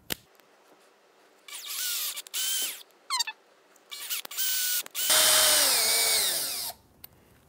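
Power drill driving screws into a chair pedal in short whirring bursts that rise and fall in pitch, ending in one long sustained run, close and loud with brief pauses between.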